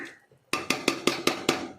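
A lid set on a pot of brinjal masala curry, heard as six sharp, evenly spaced metallic clacks close by, each ringing briefly, after a short quiet moment.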